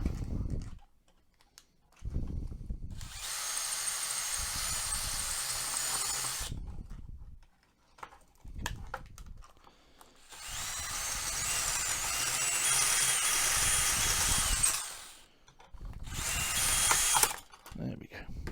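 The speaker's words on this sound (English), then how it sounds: "let's drill these 2 rivets" A power drill drills out two rivets on a game controller in two long close, loud bursts, separated by short pauses and ending in a brief third burst, with handling clatter in the gaps.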